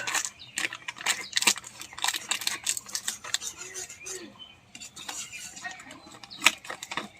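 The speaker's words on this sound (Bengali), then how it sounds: "তো বন্ধুরা এবার আমি চিপসগুলো কেটে নেই।" Tomato-flavored potato chips are cut in a home kitchen for pasta, giving light crisp crunches and clinks of utensils against a dish, close and moderately quiet, with brief stretches of talk mixed in.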